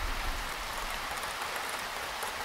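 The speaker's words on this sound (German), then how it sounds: "Die Regentonne füllt sich langsam mit Regenwasser." Rainwater pours steadily into a rain barrel, a dense, even hiss of splashing and flowing water that stays close and unbroken for the whole stretch.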